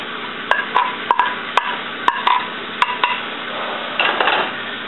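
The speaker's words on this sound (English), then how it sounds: "I'm going to go ahead and add back in my peppers and onions." Peppers and onions go back into a pan with steak, producing a series of sharp metallic clinks and taps of a utensil against the pan, followed by a brief soft sizzle.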